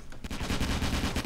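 Rapid automatic gunfire rattles loud and continuous in a Roblox WW2 battle simulator game set during a D-Day landing on Omaha Beach, with bursts of shots layered close together.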